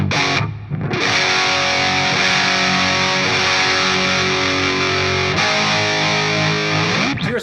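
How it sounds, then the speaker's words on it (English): Loud, heavily saturated electric guitar chords through a SviSound Cockedzoid distortion pedal, a dense sustained wall of gain with a brief dip near the start and a fresh strum toward the end. "When you play a big chord like an open G, you get hit with that wall of saturation, obviously."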